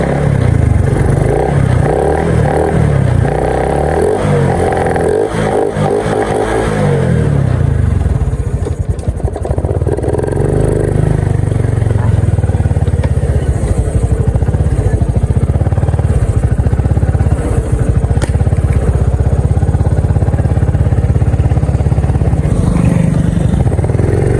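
A loud modified Honda 110i motorcycle engine rumbling and revving hard up close, with rough, rattly idling between throttle bursts.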